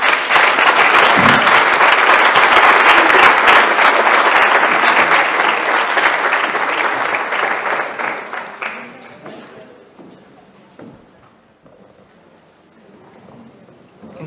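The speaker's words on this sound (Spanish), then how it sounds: "démosle un aplauso, por favor." A crowd applauds loudly and continuously, the clapping gradually fading out toward the end.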